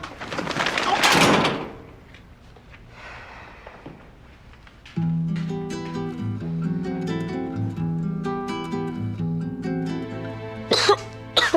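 A harsh burst of coughing near the start, then a quieter stretch followed by a steady mechanical hum with clattering knocks and a sharp sound at the end.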